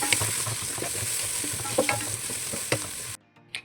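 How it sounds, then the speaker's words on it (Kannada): Ginger and crushed garlic frying with mint and coriander leaves for Ambur chicken biryani: a loud continuous sizzle with repeated spoon scrapes that cuts off abruptly, leaving near-silence and then one last brief scrape. "ಜಜ್ಜಿಟ್ಕೊಂಡಂಥ ಬೆಳ್ಳುಳ್ಳಿ ಸಹ ಹಾಕ್ಕೊಂಡು ಫ್ರೈ ಮಾಡ್ಕೊಳ್ಳೋಣ."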